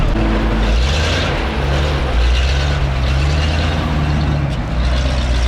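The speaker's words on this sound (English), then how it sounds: "The most epic hitchhike ever with Sammy in this massive Soviet truck." A massive Soviet truck rumbles along with a loud, steady low engine drone and road roar from inside the cab, unbroken for the whole stretch.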